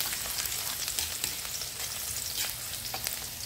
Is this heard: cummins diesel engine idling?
no